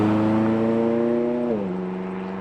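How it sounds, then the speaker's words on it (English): A McLaren 570S Spider engine in track mode drones loud and close under strong harmonics, then drops in pitch about halfway through as a hard gearshift lands, settling into a steady lower hum. "track mode, that shift hits hard"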